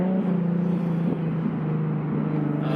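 A Stillen supercharged Nissan 370Z drives with a steady, droning engine note that holds close and even throughout, shifting pitch slightly partway, with no voices over it.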